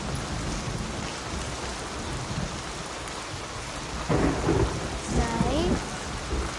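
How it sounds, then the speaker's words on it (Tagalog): Steady rain pouring down in a thunderstorm, a dense even hiss of drops on surfaces with a deep rumble of thunder swelling partway through; no voices. "Umuulan na."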